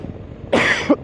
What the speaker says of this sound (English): Oh, excuse me for coughing.